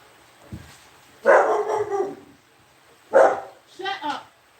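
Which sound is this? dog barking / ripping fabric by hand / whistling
dog barking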